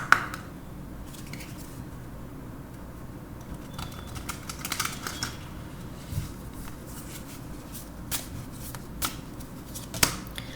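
Tarot cards are shuffled by hand in a quiet setting, producing soft, repeated riffling and brushing with occasional sharper clicks and taps, with no talking.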